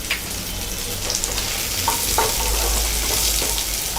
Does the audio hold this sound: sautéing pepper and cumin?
yes